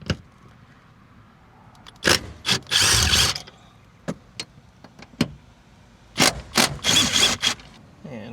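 A hand ratchet clicks in several quick bursts while loosening T50 Torx seat bolts inside a 4th-generation Toyota Tacoma cab, close and crisp with pauses between pulls.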